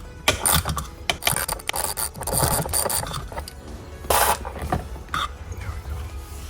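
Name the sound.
Porsche Boxster parking brake lever lowered by hand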